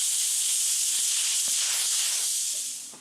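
Steady, loud hiss of compressed air streaming from a nozzle clamped in a vise, continuous for several seconds with a few faint knocks before it tapers slightly at the end.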